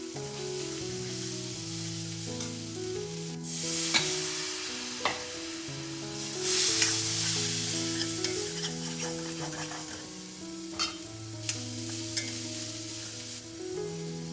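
Paneer pepper fry is stirred and scraped in a sizzling pan, with intermittent scraping and clinks over a steady sizzle, under prominent background music.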